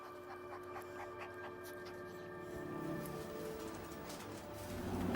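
A therapy dog pants close by in quick, soft rhythmic breaths that grow slightly louder toward the end, with no talking.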